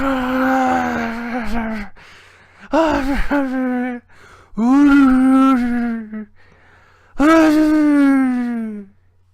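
A voice imitates the souls of the damned: four drawn-out, quavering moans and wails, loud and close, separated by short breathy pauses.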